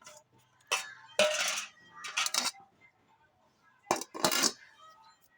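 Ragi flour being mixed in a bowl gives short bursts of clinking and scraping, spoon against the dish, separated by quiet gaps.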